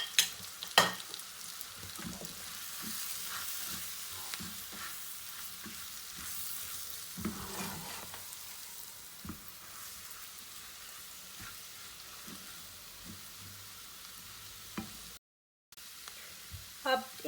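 Flour roasts with a mutton mixture in a pan, a continuous sizzle with scattered scraping clicks from stirring throughout.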